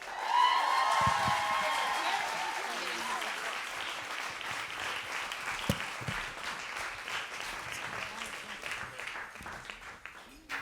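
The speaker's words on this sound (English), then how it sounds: "Give them a round of applause" An audience at a panel of Muslim-American comedians breaks into steady applause, loud at first and then holding at an even level with a few louder claps and some cheering throughout.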